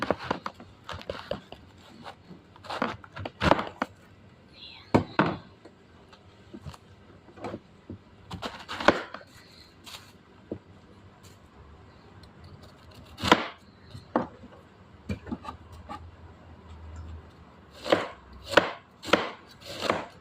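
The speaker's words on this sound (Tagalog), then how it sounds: "Hatiin lang po natin itong repolyo." A knife chops through cabbage on a board in a home kitchen. Sharp, close cuts come in short irregular bursts separated by pauses, and faint rustling is heard between them.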